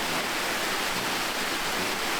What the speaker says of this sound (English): it looks like a really fun mushroom fountain that I've never seen before